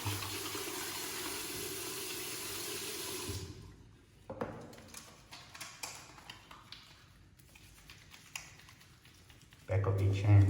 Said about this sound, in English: we start with washing our hands